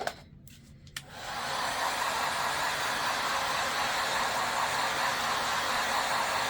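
A hair dryer blows steadily and loudly to dry paint on a handmade flower door hanger, switching on after a brief moment and running as a continuous broadband whoosh.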